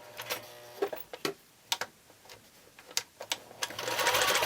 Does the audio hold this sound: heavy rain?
no